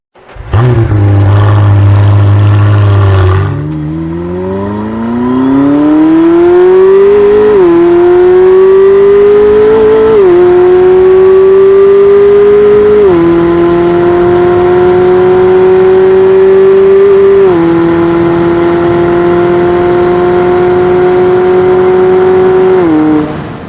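The hybrid V8 of a McLaren W1 idles low, then climbs through a series of loud, stepped revs toward a high-pitched, sustained scream, close and dominant throughout with no talking.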